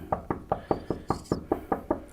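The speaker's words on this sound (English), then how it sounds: "And here we are knocking again." A door is knocked on about ten times in an even, steady rhythm, each knock sharp and close, with no talking.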